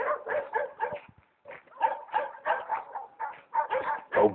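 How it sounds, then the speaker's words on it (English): Several dogs in Spain barking and yowling in repeated bursts, near and fairly loud, with short pauses between volleys and some howl-like, singing tones. "the dogs, they sing with me"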